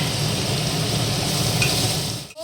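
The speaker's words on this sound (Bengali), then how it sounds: "মা এখানে পেঁয়াজ আদা রসুন সব ভালো করে তেলে ভেজে নিচ্ছ আর কি" Onion, ginger and garlic fry in oil with a loud, close, steady sizzle, briefly disturbed near the end as the pan is stirred.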